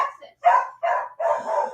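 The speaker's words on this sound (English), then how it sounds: "My dogs are barking at inanimate objects." Several dogs bark in short, loud bursts indoors at home, three or four close barks in quick succession with no talk over them.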